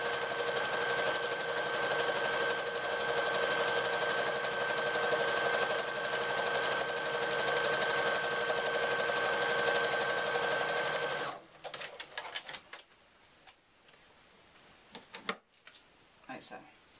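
Sewing machine stitching straight across the bottom of a fabric tea cosy, a steady rapid whirring rattle running continuously for about eleven seconds, then stopping and leaving light handling noises.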